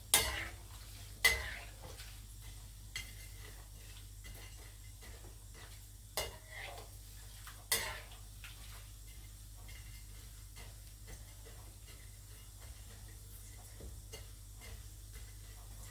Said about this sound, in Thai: การทอด รอบสองนะคะ ใช้เวลาทอดประมาณสามถึงห้านาทีค่ะ